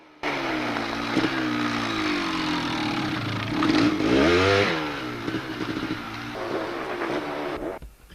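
200cc Kawasaki enduro motorcycles at a two-day enduro in Rhayader pass by with a loud, continuous engine drone that rises and falls in pitch as they rev and ride past, filling the whole stretch.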